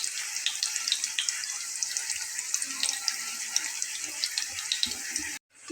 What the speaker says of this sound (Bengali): তো বন্ধুরা ঠিক পরোটার মতো এইভাবেই ভেজে নেব।